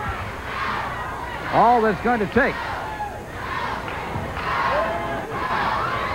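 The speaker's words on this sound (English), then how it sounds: "The crowd's trying to help him." Crowd noise rises and swells at a wrestling match, a broad roar of cheering and shouting from the audience, with a commentator talking over it and a brief loud vocal burst in the middle.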